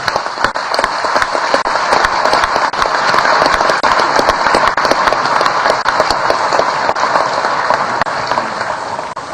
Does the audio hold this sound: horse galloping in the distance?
no